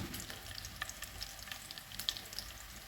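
Cumin, mustard seeds, urad dal and crushed garlic sizzle in hot oil, a close, steady crackle with frequent small pops, no one speaking.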